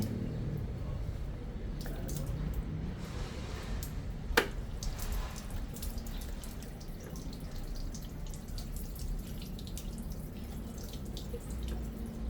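Water runs and splashes steadily as something is rinsed, with a few drips and clinks over a continuous low wash.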